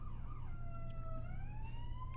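A wailing emergency siren sweeps up and down in pitch as it passes by outside, steady and moderately loud over a low background rumble, with no talking.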